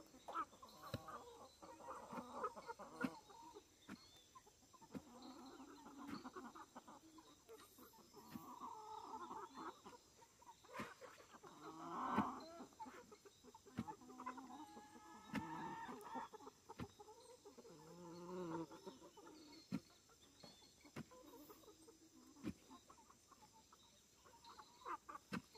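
A rooster on a cacao-growing farm makes soft, repeated hen-like clucks and short calls, faint and intermittent against quiet ambient background.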